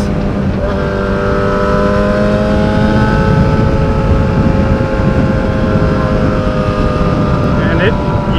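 A 2006 Yamaha R6S motorcycle engine revs loud and steady during a test ride, with a high whine and constant wind roar close to the microphone.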